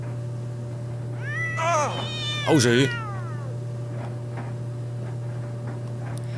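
A Sims 3 cat giving two loud, rising-and-falling meows close together, the second one strained, then fading into a steady low hum with light ticking; someone briefly speaks.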